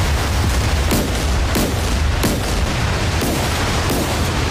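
Naval gun duel between a Chinese 052C-class destroyer and a frigate in DCS World, a dense barrage of rapid, evenly spaced cannon shots and impact booms, loud and continuous with no pause.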